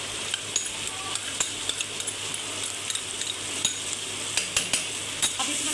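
Spice masala with salt, turmeric and green chili fries in a pan for a beans curry, a steady sizzle broken by repeated sharp clinks and scrapes of a spoon stirring.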